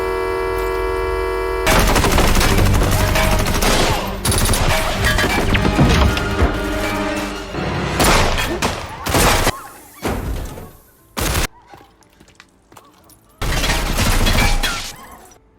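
Rapid gunfire and impacts in a film shootout, loud bursts of shots crashing under a dense music-and-effects mix, breaking into shorter separate volleys toward the end with brief quiet gaps between them.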